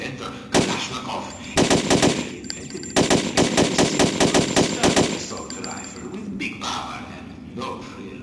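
AK-47 assault rifle fire in the PC game Hitman Codename 47 on a training facility range, several rapid automatic bursts of sharp cracks with brief gaps between, loud and close.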